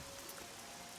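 Steady rain falls in the fantasy game Oblivion, a soft, even wash of droplets holding the same level for the whole second with no voices over it.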